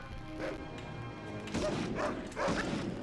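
Dog barks from the video game Medal of Honor, three sharp bow-wow bursts in quick succession over a steady game background hum.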